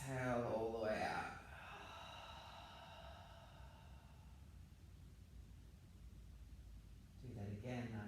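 During a yoga flow class, one deep breath is drawn in through the nose and let out through the mouth. It comes across as a long, soft, breathy rush lasting several seconds, with a voice speaking briefly just before and after.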